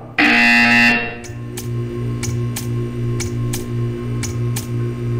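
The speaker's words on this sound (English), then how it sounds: "You will hear a buzzer." A harsh electronic buzzer in Portal 2 blares loudly for under a second, then a regular ticking repeats about twice per second over a low steady hum.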